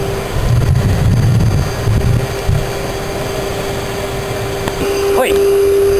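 A forced-air blower feeding a makeshift garden-waste furnace makes a steady whooshing roar with a constant tonal whine running throughout. Low rumbles and voices come through briefly early on.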